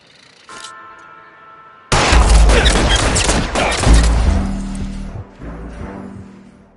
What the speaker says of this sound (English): All units, shots fired, officer needs help.